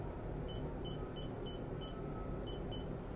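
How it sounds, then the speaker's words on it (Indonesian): A digital e-tally counter sounds its warning buzzer with a series of short, evenly spaced high beeps, faint and close, set over a low steady background hum. "maka akan ada bunyi buzzer atau bunyi peringatan untuk counter"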